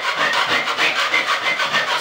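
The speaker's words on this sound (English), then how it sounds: "So what I'm going to be doing here is dry scraping here" Dry scraping of a textured popcorn ceiling with a hand scraper, heard as steady, close rasping strokes in a regular back-and-forth rhythm, with no voices.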